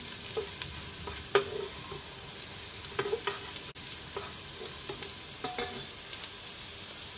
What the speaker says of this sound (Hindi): लहसुन को प्याज के साथ ही फ्राई करेंगे हल्का सा।